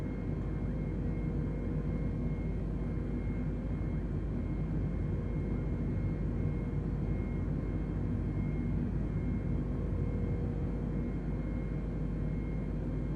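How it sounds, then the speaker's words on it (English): An Airbus A320 taking off in Microsoft Flight Simulator on a flight from Bucharest: a steady, loud jet engine roar that holds constant throughout, with no voices over it. "We have takeoff, guys. We have takeoff. Airbus 320, continue for west departure."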